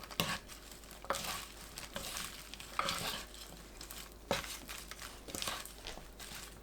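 Garlic scapes and anchovies being tossed together with seasoning, soft close rustling and sticky squelching in irregular bursts, quiet overall.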